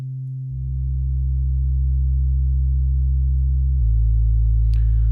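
A sustained, dry monophonic synth bass tone, deep and steady, shifting pitch once near the end, with no reverb tail; a faint click appears late.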